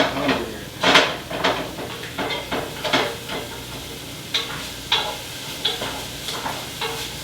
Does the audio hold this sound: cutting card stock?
no